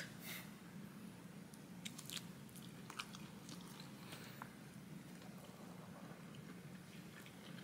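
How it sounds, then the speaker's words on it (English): Biting into and chewing a juicy piece of pork from a 7-Eleven in Taiwan, with soft wet squishes and small crunches close up, steady through the clip over a low background hum. "Now I'm gonna try this juicy looking piece of pork."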